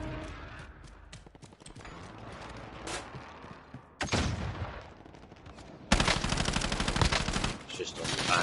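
Bursts of gunfire from Call of Duty: Modern Warfare Warzone on PS5, loud and close, with dense rapid shots and a sharp jump to a heavier sustained volley near the end, a voice faintly present underneath.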